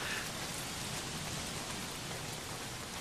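Steady, dense rainfall pours down in the game Days Gone, a continuous close hiss of drops drumming on surfaces with no other sounds standing out.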